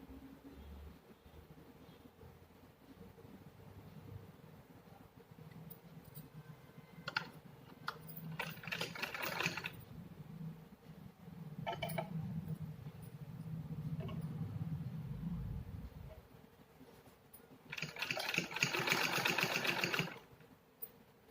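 Sewing machine stitching folded fabric pockets, quiet indoor work with short bursts of rapid mechanical needle rattling, a longer run near the middle and a louder burst toward the end, separated by pauses with faint handling noise.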